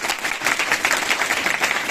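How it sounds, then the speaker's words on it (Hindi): Audience applause at a seminar comes as a steady, dense wash of many hands clapping, moderately loud and even throughout. "इनके लिए भी जोरदार तालियां।"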